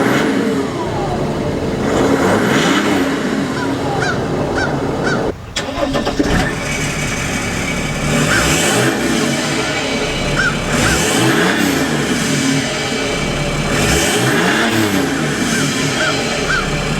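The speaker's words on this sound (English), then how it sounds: "you can already hear the difference between the stock silver CDI and the black CDI with the 3-inch catless downpipe" A straight-piped Mercedes CDI turbo diesel with a 3-inch catless downpipe idles and revs loudly. Repeated rising engine sweeps and a brief cut in sound come through close by, with no talk.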